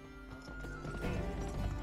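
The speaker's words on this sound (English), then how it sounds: "How many different horses am I gonna freaking ride on?" Horse hooves clip-clopping at a gallop in a Western video game, a brief rapid drumming of steps heard faintly over a low background.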